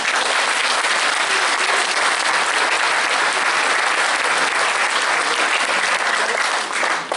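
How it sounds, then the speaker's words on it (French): Loud, close applause from the audience at a New Year's greetings ceremony, honoring students and teaching staff; many hands clap in a thick, uninterrupted burst without speech. "Je pense qu'on peut aussi les applaudir."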